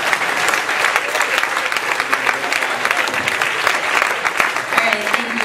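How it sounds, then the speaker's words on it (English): Audience applause at a student talent show during a prize round, sustained loud clapping from a big crowd with scattered cheers, continuing steadily throughout. "One more round of applause for all our people of choice."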